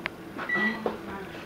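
A microwave oven being operated, a short tone and hum with a few clicks and beep-like sounds, close and fairly loud.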